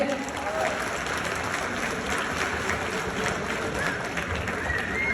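Audience applause at a Pakistani comedy show in New Zealand, a steady dense wash of clapping filling the room throughout, loud and continuous with no break.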